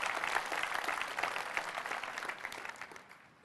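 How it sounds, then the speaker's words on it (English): Audience applause at a 2002 Apple keynote on macOS 10.1, with dense, steady clapping from a large crowd that holds strong throughout and tapers slightly toward the end. "I would like to have a round of applause for all of you"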